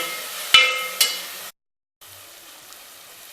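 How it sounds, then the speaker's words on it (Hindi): Dal masala roasting in ghee in a pan: a steady, loud sizzle with two sharp stirring knocks, then a brief cut to silence before a softer sizzle resumes. "अब इसे अच्छी तरह हम भून देते हैं।"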